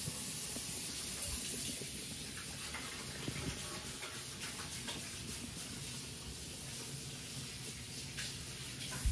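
Tap water runs steadily as greasy peanut butter bread dough is rinsed off hands, a soft continuous hiss and splash at moderate distance with faint handling noises and no speech.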